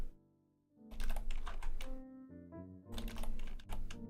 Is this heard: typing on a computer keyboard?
yes